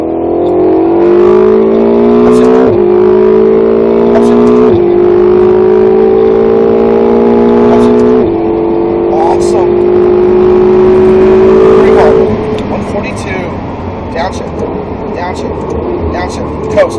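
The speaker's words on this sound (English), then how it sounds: "Now feed that throttle." A Ferrari 488 GTB accelerates hard on a track, its engine note climbing loud and close through several upshifts, each gear rising in pitch before easing off near the end.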